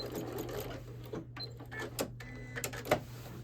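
A sewing machine runs a short back stitch while quilting a scrap table runner, giving quiet bursts of rapid mechanical stitching with small stops, clicks and a steady low motor hum underneath.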